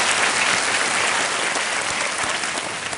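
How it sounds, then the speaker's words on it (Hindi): Studio audience applause welcoming a contestant on the KBC quiz show, a dense steady clapping that fills the room at full loudness throughout, with no talk over it. "तालियों के साथ इनका अभिनंदन किया जाए"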